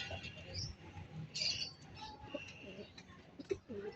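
Pigeons coo softly in a racing loft, a few low murmuring calls and faint chirps close by against a quiet background.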